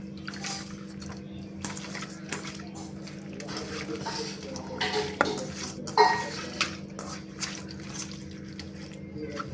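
Garlic and ginger paste being mixed by hand into raw meat in a bowl, wet squelching and slapping with occasional clinks of the dish, close and moderately quiet.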